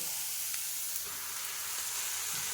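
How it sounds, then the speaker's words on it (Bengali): Oil sizzles steadily in a pan as eggplant fries, a soft continuous crackle of frying with no voices, fairly quiet throughout. "বেগুনটা একটুখানি ভাজা করে নেব"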